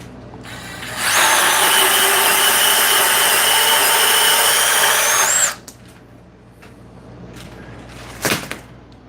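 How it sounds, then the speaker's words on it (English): Power tool cutting through 350 kcmil copper wire, a loud high whining grind held steady for about four seconds and then cutting off, followed by quieter handling noise and a sharp clank near the end. "Let's cut some more 350 KC mill copper."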